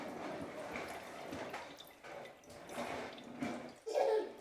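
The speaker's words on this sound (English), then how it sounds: "I'm going to put this through the sieve because I don't want to have any occasional pips or the other stuff going in there." Liquid for homemade limoncello, lemon-infused spirit, is poured slowly through a sieve into a saucepan, giving a soft continuous trickle and splash that swells near the end, with no talk.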